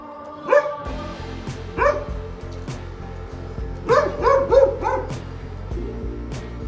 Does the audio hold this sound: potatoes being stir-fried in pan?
no